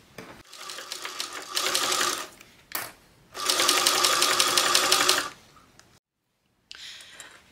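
A sewing machine bastes fabric along a narrow seam, running in two loud stitching bursts separated by brief pauses, with a short quieter run at the end.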